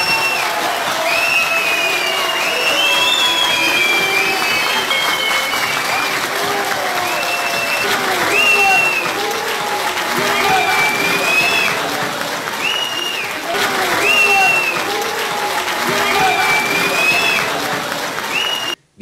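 Studio audience applause in a Turkish television program, loud and sustained for the full length, with a dense crowd of clapping, occasional cheers and whistles mixed in, fading out at the very end.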